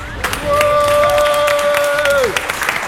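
Crowd applause and cheers from a live rap battle audience, loud and sustained, with tonal musical notes ringing over the noise before dropping away near the end.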